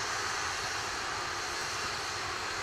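An Atlas V rocket climbs through launch on the NROL-101 mission, its engines heard as a steady, broad, distant roar of noise with no other sounds over it.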